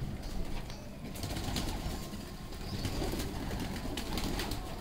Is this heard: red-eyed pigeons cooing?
yes